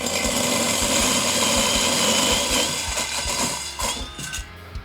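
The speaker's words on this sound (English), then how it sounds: "Enlarging an existing hole with a hole saw usually goes like this." Hole saw cutting to enlarge an existing hole, chattering and grabbing as it walks; a loud, continuous grinding buzz with rapid rattling pulses that fades and breaks up toward the end.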